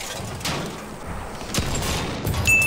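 Gunfire in the Battlefield 1 video game: loud, overlapping bursts of shots and booms cracking through a continuous din of battle, with several sharp reports standing out near the end.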